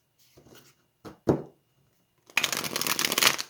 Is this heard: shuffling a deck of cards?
yes